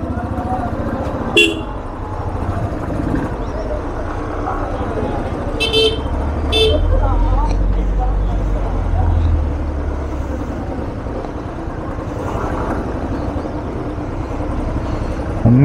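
Heavy road traffic on a congested road in Kodaikanal, with engines rumbling and several sharp car horn toots scattered throughout, while people talk nearby over the noise.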